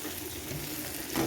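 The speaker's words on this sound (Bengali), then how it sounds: "এবারে আমি কিছুটা পোস্ত ঢেলে দেবো।" Poppy seeds poured into a pan of softened tomato and onion frying in oil, giving a dense, steady sizzle close up that brightens briefly near the end.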